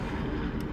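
Helicopter flying overhead, a steady low rotor and engine rumble that fills the whole moment loudly and evenly, with no voices.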